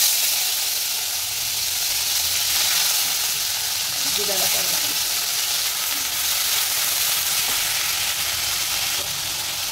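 Chopped onion, garlic and green chilli fry in a hot pan for a fish curry, giving a steady, close hiss of sizzling oil with a few faint stirring scrapes and no talking.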